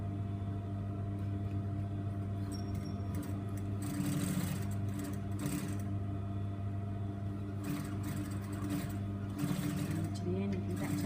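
Sewing machine stitching a 1 centimetre seam, a steady mechanical hum and whirr running continuously, with a person talking over it.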